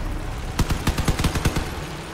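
Rapid weapon fire from a hybrid car in the combat vehicle game Crossout, a tight rhythmic string of about ten sharp shots in quick succession, loud and close over a low background hum.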